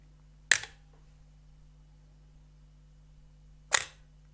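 A 1971 Pentax Electro Spotmatic SLR fires a shutter on a roughly three-second exposure: one sharp mechanical snap as it opens, then quiet over a low hum, then a second snap as it closes, close and alone.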